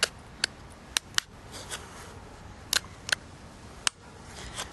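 Sharp, crisp ticks and pops of stone flakes snapping off during abo notching, about half a dozen brief isolated clicks spaced irregularly against a quiet background.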